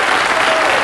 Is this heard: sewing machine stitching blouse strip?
no